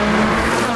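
Toyota Altezza RS200 fitted with a Jasma exhaust system and 210 horsepower BEAMS engine, giving a steady, loud close-range exhaust drone that holds throughout with no pauses or talk over it.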